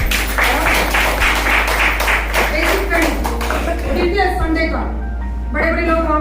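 Training audience clapping at a basic training session, loud close applause that gathers and then thins out, mixed with voices and a bright melodic tune.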